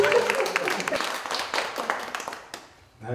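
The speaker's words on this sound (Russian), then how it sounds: "Аплодисменты!" Applause breaks out at a jubilee birthday celebration in a banquet hall, with dense, uneven clapping that grows and fades over a few seconds before dying away.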